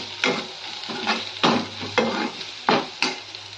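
Ground spice powder of cinnamon, cloves, cardamom and star anise being stirred into a sizzling frying dish, with repeated scraping strokes about every half second over a steady sizzle, close by.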